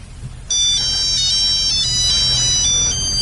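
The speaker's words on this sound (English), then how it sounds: "It's a Scottish ringtone." A bright electronic ringtone melody chimes loudly and steadily for about three seconds, starting abruptly after a brief moment of faint background noise.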